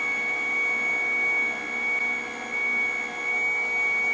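An Aobosi slow masticating juicer runs steadily with a loud, constant motor whine and hum, with a slight dip in level midway as the last of the produce clears through.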